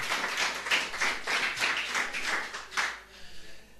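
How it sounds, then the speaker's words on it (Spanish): A church congregation at a Sunday service claps in a brief, fairly soft burst of rhythmic applause that thins out and fades near the end. "Dale un aplauso al Señor por esto."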